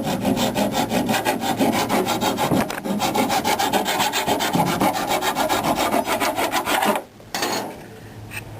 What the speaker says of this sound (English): take a metal rasp and just kind of go at it and knock down some of these higher edges